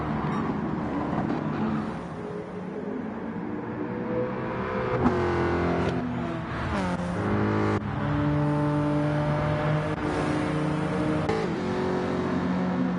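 Ford Mustang touring car racing at Brands Hatch in a video game, its engine loud and close, rising and falling through gear changes and shifting in pitch as it accelerates and brakes, with no talk over it.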